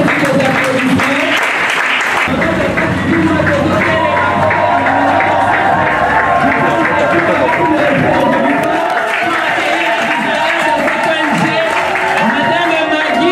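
A crowd greets the entrance of an NGO coordinator at the Action Plus launch with loud, sustained applause. Cheers, voices and music swell through the clapping.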